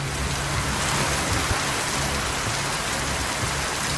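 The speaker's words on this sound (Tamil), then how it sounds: "கொடைக்கானல் மலைப்பகுதிகளில் பெய்த மழையால் குளிர்ச்சியான சூழல் நிலவியது." Steady rain falls across the Kodaikanal hills, a dense even hiss of drops hitting surfaces that continues unbroken from start to finish without any voices.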